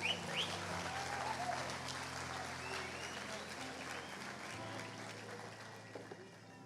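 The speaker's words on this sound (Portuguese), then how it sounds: "Salva de palmas para o Josi aí, gente." Church congregation clapping for a man during an evening service, a steady, moderately distant round of applause with a sustained hum and faint voices under it, tapering slightly toward the end.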